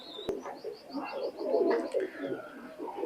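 Imported-bloodline high-flying summer pigeons coo in low, rolling murmurs, joined by thin bright chirps and one sharp click near the start, all at moderate closeness.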